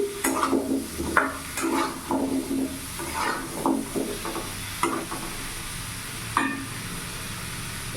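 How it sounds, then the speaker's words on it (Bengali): A spoon stirs turmeric and cumin powder through pumpkin frying with panch phoron in a pan, giving a steady sizzle broken by repeated scraping strokes, close and fairly loud with no voices. "হলুদ গুঁড়ো দিয়ে দিলাম জিরে গুঁড়ো দিয়ে দিলাম ভালো করে নাড়াচাড়া করে নিলাম"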